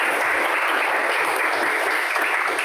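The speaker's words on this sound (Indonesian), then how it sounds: "tepuk tangan buat Kirana ya" Classroom applause for a student named Kirana during a teaching session, a steady, dense clatter of many hands clapping together, loud and even throughout without a break.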